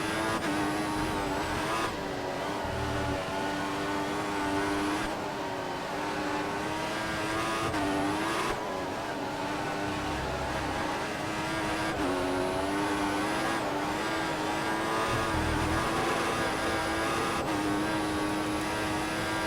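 A Formula 1 car in the F1 2014 video game at the Japanese Grand Prix screams at high revs with repeated gear shifts and tire squeal as it oversteers, loud and continuous with no talking.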